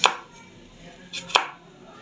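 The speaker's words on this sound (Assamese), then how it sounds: "এতিয়া চাবচোন নহৰুখিনি সৰু সৰুকৈ কাটি আছেগৈ" Garlic is chopped into small pieces for cauliflower Manchurian, with a few crisp, close knife strikes on a cutting board: one at the start, then a quick pair a little later.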